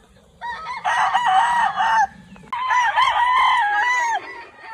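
A bulik rooster crows on a farm, two loud close crows in succession with a low background murmur beneath.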